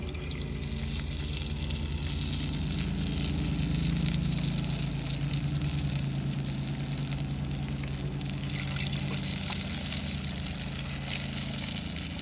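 Fish fries in hot oil with a steady, close, unbroken sizzle and crackle, with no voices.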